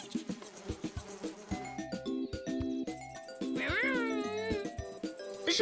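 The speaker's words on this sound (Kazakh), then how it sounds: "Жоқ, Миша, бұл жұлдызғұрт емес, ара." Cartoon bee buzzing, a wavering insect drone that rises and bends in pitch over a light musical score with chiming tones, close and fairly faint.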